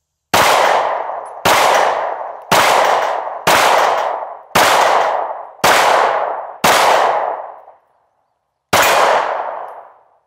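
Eight sharp, loud shots from an IWI Masada pistol firing SIG 365 115-grain personal defense rounds, spaced about a second apart with a ringing decay after each and a longer pause before the last.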